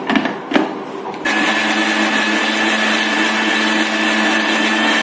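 A kitchen mixer grinder churning aam panna ingredients with a little water, a steady loud motor whine running continuously after a brief rattling start.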